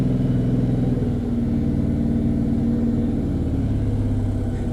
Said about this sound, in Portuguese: Vou acelerar, tô acelerando.